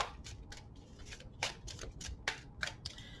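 Tarot cards are shuffled in quick, crisp riffles and flicks, close up and fairly quiet, with no voices.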